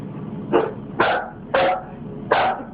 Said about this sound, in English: Is it bark?